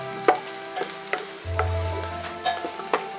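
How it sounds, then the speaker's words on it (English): Garlic roasting in olive oil in a pan, a continuous close sizzle punctuated by several sharp clicks and scrapes of stirring, with no talking. "roast the garlic"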